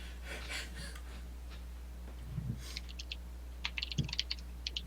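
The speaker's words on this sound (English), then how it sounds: "I'm actually typing Stan to try to get the stream up if he knows what's going on" Computer keyboard typing during a livestreamed game session: a few scattered taps early, then quick bursts of crisp key clicks in the last second and a half over a steady low hum.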